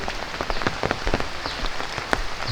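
Rain falling on an open farm field, dense steady patter of drops with scattered louder splashes, close and continuous, no voices.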